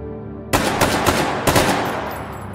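Several bursts of gunfire from a firearm in the VR shooting game Hot Dogs, Horseshoes and Hand Grenades, loud and close, starting abruptly after a brief quiet lead-in with no talking.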